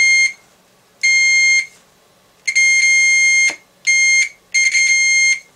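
A multimeter's continuity tester beeps as its probes bridge a guitar potentiometer's metal casing and a solder lug, giving about six loud, steady electronic tones of varying length separated by short silences.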